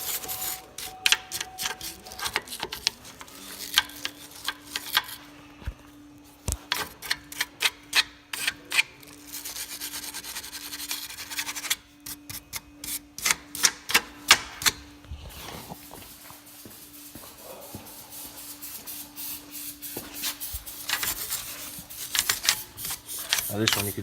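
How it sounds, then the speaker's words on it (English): Rapid bursts of scratchy scrubbing as a wire brush works paint off brake calipers, irregular stiff bristle scraping in short strokes with pauses between, close up and moderately loud. "Now I like to use the wire brush because it gets into the hard to reach nooks and crannies that I can't really get with the sandpaper."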